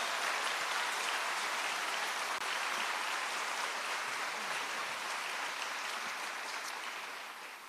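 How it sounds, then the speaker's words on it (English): Audience applause at a large church gathering, the World Meeting of Families 2018, following a bishop's presentation; dense, steady clapping fills the whole stretch and fades slightly at the end. "thank you for that applause"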